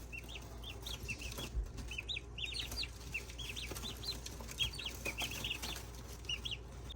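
Many turkey poults peep in high, rapid chirps, overlapping continuously and close up, with faint rustling beneath.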